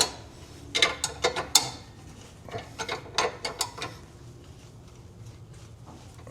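A ratchet snugs down a 19mm trailer hitch bolt on a 2016 Ford Transit T250, giving bursts of quick close clicks in short runs separated by pauses.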